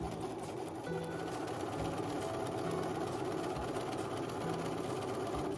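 A sewing machine stitches fabric in a steady, continuous mechanical hum with a fast rhythmic chatter, even and moderately loud throughout, with no talking.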